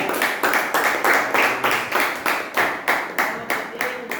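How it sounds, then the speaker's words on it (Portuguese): A church congregation at an evangelistic service claps in unison to a steady beat, with about ten sharp, evenly spaced claps ringing out in a reverberant hall and no voices over them. "As palmas glorificam o nome do Senhor"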